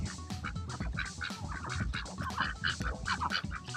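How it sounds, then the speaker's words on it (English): Ducks on a lake quack repeatedly in a busy, overlapping chorus, close by and fairly loud, with short nasal calls coming in quick bursts. "What's up, ducks?"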